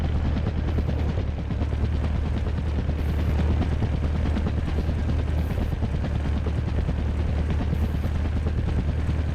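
Scout plane in the Iron Nest Heavy Turret Simulator game, a steady droning engine hum with a low rotor-like throb, loud and continuous throughout with faint scattered pops of distant gunfire.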